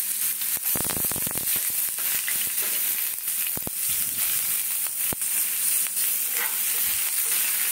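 Onions hit hot refined oil in a pan and fry with a loud, continuous sizzle, broken by sharp scraping and stirring clatters close by.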